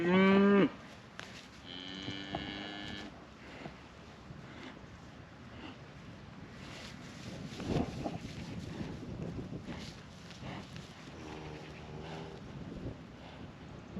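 A cow on a farm lets out a loud moo at the start, with further mooing calls from cattle later on, over steady outdoor wind noise.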